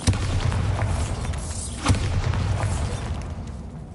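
Bombarda spell blasts in Hogwarts Legacy, a steady low rumbling boom with a sharper thump near the middle, loud and close with no voices.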